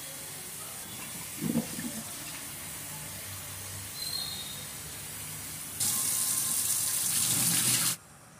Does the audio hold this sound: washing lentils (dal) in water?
yes